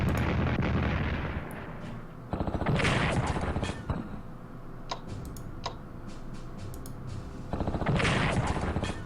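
Artillery fire in the Strategic Command 1939 Storm over Europe war strategy game: dense, rumbling bursts of booming shots come in three loud waves, separated by quieter stretches with scattered sharp ticks.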